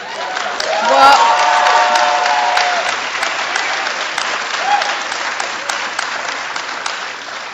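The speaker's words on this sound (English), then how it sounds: "okay, please don't clap." An audience at a city council listening session claps in a dense burst that swells, then slowly thins and fades over several seconds, with a brief voice and a whistle-like tone near the start.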